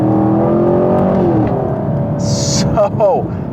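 A 2021 Chevy Camaro with the LT1 V8 accelerates hard, its engine and exhaust producing a loud, dense roar that rises and then eases, with a brief higher whine and some shifting near the end.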